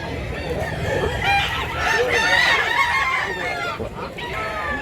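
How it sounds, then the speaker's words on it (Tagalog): A yard full of gamefowl, including black-gray roosters, in Mantalungon, Cebu: busy clucking with rising crows layered on top, steady and close, many birds at once. "Gandang manok."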